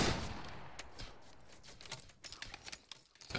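In the video game Battle Grounds III, a line company fires a musket volley as a burst of cracks that begins loud and decays into a ragged string of scattered, sharper pops.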